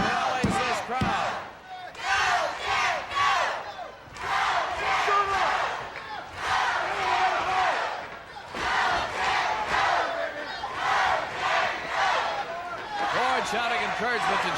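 Wrestling arena crowd at a USWA event roaring and chanting in loud, sustained waves, with brief dips between surges of shouting and cheering.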